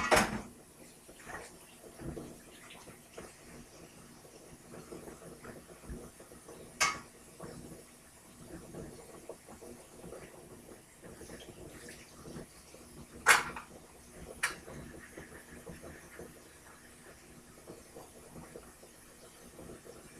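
Water runs steadily into a kitchen sink as a soft, continuous hiss, broken by a few sharp clinks and clatters of dishes being shifted around.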